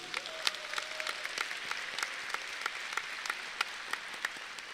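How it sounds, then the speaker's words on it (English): An audience at a 2022 graduation ceremony claps in steady, moderately distant applause, with sharp individual claps standing out from the crowd's continuous patter. "Can we please have a round of applause for our team members?"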